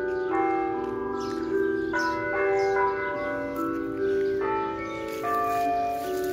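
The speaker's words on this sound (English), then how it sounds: "Sometimes I don't like the bells, but sometimes I do." Methodist church bells ring out the hymn Amazing Grace, each struck note sustaining and overlapping in a slow, steady melody, loud and close with no voices.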